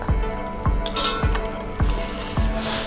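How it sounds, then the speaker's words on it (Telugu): Wheat flour biscuit dough with sesame seeds, chili powder and salt is mixed in a bowl: about five rhythmic squishy strokes with light clinks of a utensil against the bowl, close up. "మనం ఇవన్నీ కలుపుకోవాలి"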